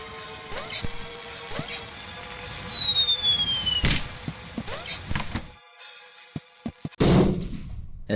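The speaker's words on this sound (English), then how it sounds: "As soon as I heard the gunshot, I knew I needed to go back and find Mr. Silton." Gunfire from a platformer video game rings out as a loud sharp crack with a ringing tail, set among other thumps, clicks, tonal game effects and a second heavy burst near the end.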